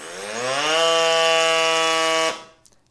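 A small electric portable bike tire pump whines loudly with a high-pitched buzz, rising briefly in pitch as it spins up, then holding steady for about two seconds before cutting off.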